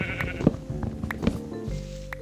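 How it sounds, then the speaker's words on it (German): Sheep in the video game Minecraft bleat a few times over light background game sounds, fairly close and clear, with no talking. "Ein Schaf."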